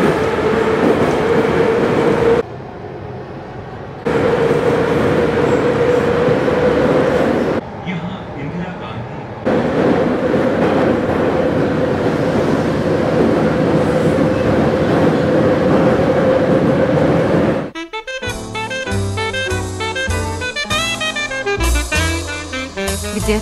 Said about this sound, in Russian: А теперь пример звучания московского метро.